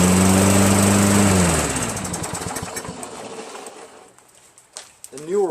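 A Toro 6.75 HP GTS Recycler Personal Pace self-propelled lawn mower with a Tecumseh engine runs loudly and close, then winds down and cuts off, leaving near silence before a brief voice at the end.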